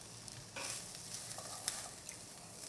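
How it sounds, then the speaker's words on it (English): Corn stir-frying in a tablespoon of butter in a pan over medium-high heat, giving a soft, steady sizzle with faint scraping strokes, fairly quiet and alone. "I'm going to stir fry this corn about 2-3 minutes"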